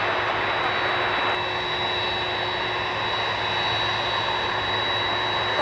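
Aircraft taxiing about 300 to 400 feet away at Minneapolis airport, a loud steady jet engine roar with a sustained whine that continues unbroken.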